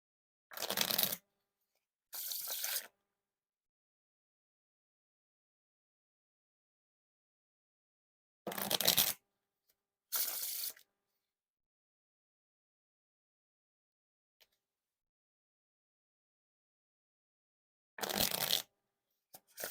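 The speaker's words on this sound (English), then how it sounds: "And now onto the bridge shuffle or riffle shuffle." Silver Peau-Doux playing cards being riffle shuffled, three separate pairs of quick, crisp ruffling bursts spaced apart with quiet gaps between them, close and clear with no talking.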